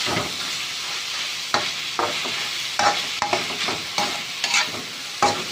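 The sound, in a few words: stir-frying pork with chili and garlic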